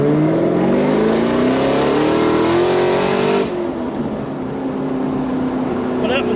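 A Walkinshaw Performance VXR8 engine roars loud and close under full throttle, its pitch climbing through the gears before settling to a lower drone.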